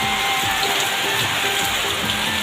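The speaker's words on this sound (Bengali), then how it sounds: "এই যে কি বৃষ্টি দেখো," Heavy rain falling steadily outdoors, a dense, continuous hiss of drops on surfaces at close range, with no voices and a few faint tonal sounds in the background.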